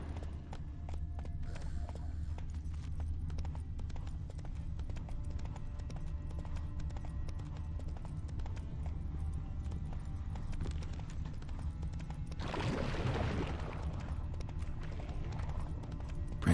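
Hooves of a horse in The Witcher 3 beat in a steady, quiet gallop, with a brief louder rush of movement near the end.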